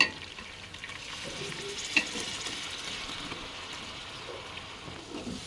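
Tomatoes, onions and green chillies fry in a pan, a steady soft sizzle with occasional stirring scrapes and a light clink, close and unaccompanied by speech.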